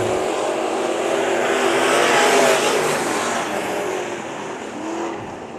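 Race cars in a heat race at Bakersfield Speedway roar continuously around the track, a loud, dense engine drone swelling as the pack passes, then easing slightly, with no speech.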